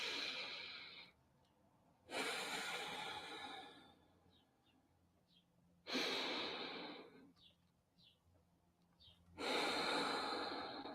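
Slow breathing in and out through the nose during a guided self-massage exercise: long airy inhales and exhales alternate in an even rhythm, close and fairly soft, with no voice.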